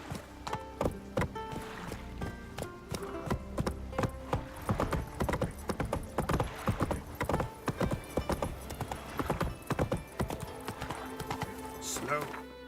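Roach, the horse from The Witcher 3, runs with loud, sharp, evenly spaced hoofbeats close up, alongside a brief whinny and voices talking over the clatter.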